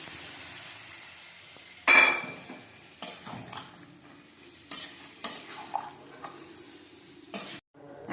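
Milk poured into Bengali shukto and stirred in the pan: low kitchen sizzle with a few separate scraping stirs and clinks of a utensil against the pan, one louder scrape early, quiet and close.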